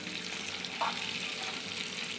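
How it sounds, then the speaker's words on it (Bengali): Katla fish fries in hot oil in a wok, a steady close sizzle with a brief stir partway through. "প্রথমে আমি কড়াই তেল দিয়েছি তারপরে কাবলা মাছটা নিয়ে নিয়েছি তেলের মধ্যে দিয়ে দিয়েছি"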